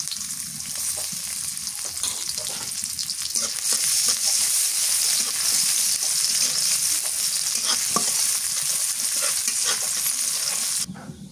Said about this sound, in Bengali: পেঁয়াজটা লাল লাল করে ভেজে নিলাম